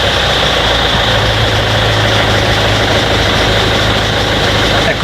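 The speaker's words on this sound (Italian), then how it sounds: "mettiamo in moto" Car engine running at a steady idle after starting, a loud continuous low rumble with constant vibration and no talk.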